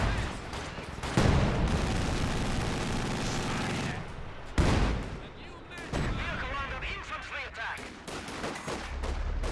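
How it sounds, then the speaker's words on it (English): Booming artillery barrage and rattling gunfire from a Company of Heroes 2 battle, loud blasts landing in heavy bursts with sharp pauses, dense continuous fighting between the impacts. "got this gun barrage there"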